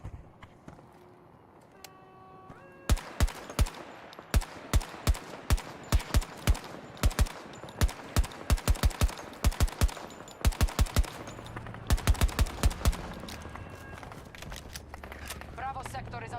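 Loud, close SMG fire in Battlefield 2042 comes in short, crisp bursts and single shots, repeated steadily for several seconds. A few quiet, scattered in-game voice lines play underneath.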